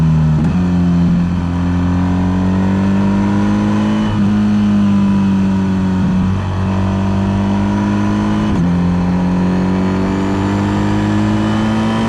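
A BMW R1300 GS motorcycle engine pulls loud and close, its drone rising in pitch through the gears with two brief dips at shifts around the fourth and ninth seconds, sustained throughout with no talk.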